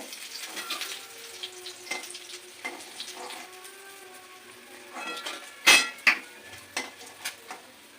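Soft sizzling of bata fish frying in oil, with intermittent scraping and clinks of a utensil against the pan, closing with a few sharp knocks.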